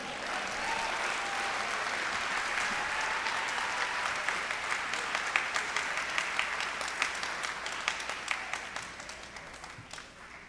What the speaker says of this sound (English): Let's give another round of applause for that wonderful, wonderful commendation and presentation.